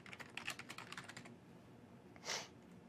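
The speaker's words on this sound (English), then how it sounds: "Type in my credentials" Rapid clicking keystrokes on a computer keyboard as login credentials are entered, quiet and close, followed by a single louder key press after a short pause.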